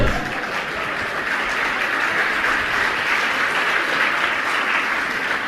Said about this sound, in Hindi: महाराज ने तुम लोगों की पोल खोली और तुम तालियां बजा रहे हो